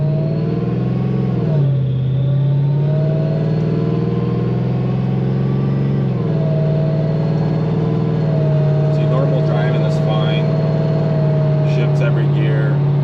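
A Crown Vic swapped to a 7.3L Godzilla V8 with a Whipple supercharger drives along, its loud, steady engine drone holding near throughout, with a brief dip in pitch as it shifts early and again mid-run, plus faint rattles late.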